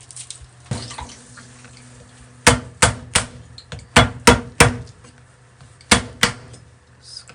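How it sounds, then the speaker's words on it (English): A knife chops garlic on a cutting board in a kitchen while something stir-fries in olive oil, with about eight sharp, close knocks in irregular clusters over a low sizzle. "I'm gonna cut garlic too."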